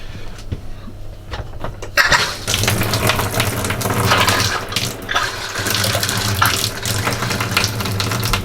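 A shower faucet in a Rockwood 2509S RV runs pink antifreeze during winterizing: it bursts on after two quiet seconds, then gushes steadily and loudly over a low droning pump hum.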